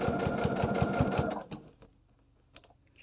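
A sewing machine stitches fabric for a homemade baby toy, its needle clattering in a fast, steady rhythm for about a second and a half before stopping, leaving faint handling clicks.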